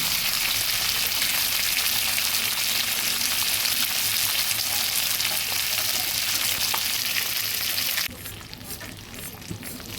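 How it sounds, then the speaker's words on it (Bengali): A fish head frying in oil in a kadai, turned over now and then, gives a steady, dense, close sizzle throughout, softening slightly near the end. "উল্টে পাল্টে ভেজে নিচ্ছি।"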